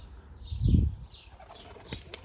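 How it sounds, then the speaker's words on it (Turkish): Takla tumbler pigeon diving fast, a short burst of flapping wings swelling in the middle, then fainter fluttering and a few brief clicks, outdoors. "çok suratlı girdiğinden kendini toparlayamıyor kuş"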